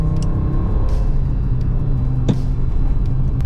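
Naturally aspirated Audi Coupé GT 2.2E five-cylinder engine with a stainless exhaust, a steady loud low rumble running throughout with slight revving swells and no talk.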